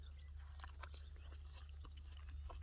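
Crisp bites and chewing of a crunchy Mediabel apricot, with several sharp crunches close to the mic over a low steady background hum.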